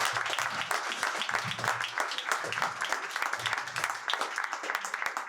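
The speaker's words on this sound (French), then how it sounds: "si vous voulez bien applaudir nos intervenantes et intervenants." An audience at a book presentation applauds the speakers with even, fairly quiet clapping from a modest crowd, sustained throughout without voices.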